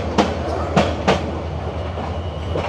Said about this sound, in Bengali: আরও একটি ট্রেন কিন্তু কমলাপুর স্টেশনে আসলো।